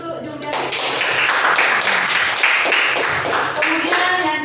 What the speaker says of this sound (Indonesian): Tepuk tangan untuk Jumriati.